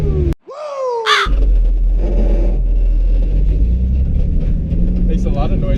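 A drift car engine revs up in a rising whine, then settles into a loud, rough roar close by, with voices talking over it.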